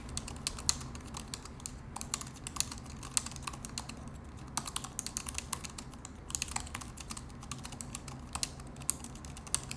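Soft, quick typing clicks on an Apple Magic Keyboard for iPad Air, steady, close by and fairly quiet, with no one speaking.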